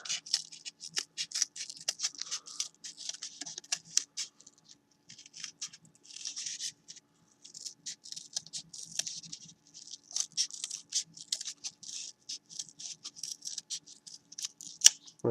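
Scissors snip steadily through paper while cutting out a circle for a sculpture kit gear, a close, quiet run of short crisp cuts and paper rustles with no talking.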